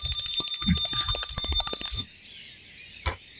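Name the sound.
bell ringing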